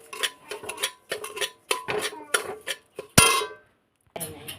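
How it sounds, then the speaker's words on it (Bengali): A spoon stirs semolina frying in ghee in a pan, with repeated close metallic scrapes and clinks in an uneven rhythm, ending in one sharp clang and a short pause. "সুজিটা আমি হালকা করে ভেজে নেবো"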